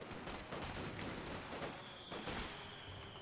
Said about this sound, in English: Mortars opening fire